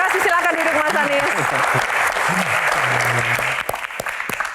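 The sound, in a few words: audience applause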